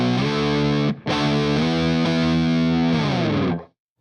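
Heavily distorted electric guitar played in a classic heavy metal style, a dark, fat sustained riff of held notes with a short break near one second, loud and close, then ringing out and cutting to silence.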